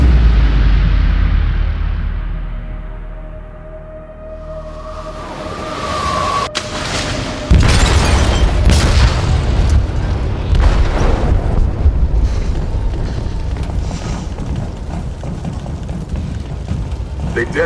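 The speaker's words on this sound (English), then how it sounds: "They detonated an explosive in the hold." A large explosive detonates in a ship's hold in Detroit: Become Human: a deep rumbling boom erupts after a tense buildup, followed by sustained roaring, crackling debris and turbulent noise that fills the space.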